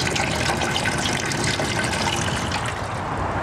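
Apple cider juice drains from a hole in a fruit press tray, a steady, close rushing gush of liquid that runs without a break.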